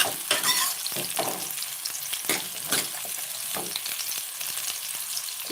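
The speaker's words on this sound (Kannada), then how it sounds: "ಎರಡು ಟಮೊ ಎರಡು ಈರುಳ್ಳಿನ ಸ್ವಲ್ಪ ದಪ್ಪ ದಪ್ಪಗೆ ಹೆಚ್ಚಿ ಫ್ರೈ ಮಾಡ್ಕೋತಾ ಇದ್ದೀನಿ" Thick-cut tomato and onion pieces fry in hot peanut oil with a busy crackling sizzle, punctuated by repeated stirring scrapes, up close and with no talking.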